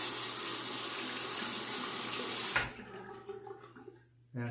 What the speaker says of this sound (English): I'm gonna wet the razor